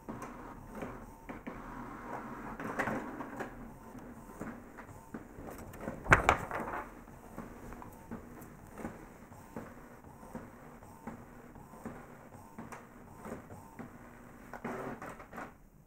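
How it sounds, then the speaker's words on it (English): A printer runs quietly with soft mechanical whirring and paper movement, broken by a sharp clack midway and occasional shuffling sounds. "It's a good printer."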